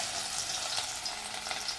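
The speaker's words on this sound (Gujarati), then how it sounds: "હવે આપણે ડુંગળી સાતળી લેવાની છે 2-3 મિનિટ" Chopped onion sautés in hot oil with cumin in a pan for dal fry, a soft, even sizzle close by with faint crackles and no talking.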